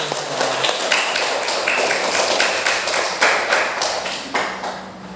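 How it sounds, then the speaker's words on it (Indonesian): Classroom applause as students clap their hands together, a dense steady patter of many hands lasting several seconds at moderate loudness with a brief trailing voice. "Kita beri tepuk tangan"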